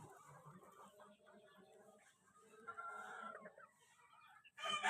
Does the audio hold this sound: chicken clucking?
yes